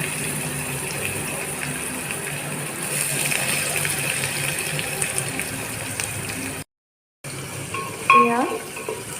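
Ginger, garlic, onion, panch phoron and bay leaves fry in hot oil with a steady hiss, stirred now and then. The sound cuts out briefly, then a spoon scrapes and squeaks sharply against the pan.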